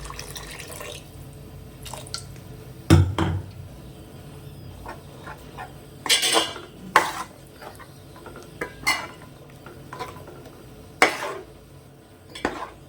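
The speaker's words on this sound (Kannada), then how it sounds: "ಇನ್ನು ಸ್ವಲ್ಪ ನೀರು ಹಾಕ್ಕೊಳ್ತಾ ಇದ್ದೇನೆ" Water drips and pours into thick fish gravy in a pan amid intermittent clinks and scrapes of a utensil against metal, close by, with no talking.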